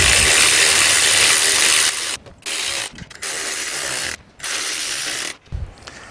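A ratchet tightens the bolts on a Maypole easy-fit jockey wheel bracket fitted to a 50mm trailer drawbar, loud close rapid clicking in several bursts separated by short pauses.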